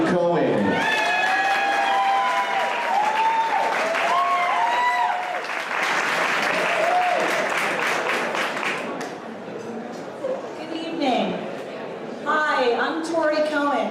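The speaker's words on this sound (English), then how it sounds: "Please give a nice round of applause to Tori Cohen." Audience applause at a charity casino and cocktails night for an Alzheimer's foundation, loud sustained clapping and cheering from a full room, with whistles and voices mixed in, fading slightly before a speaker begins.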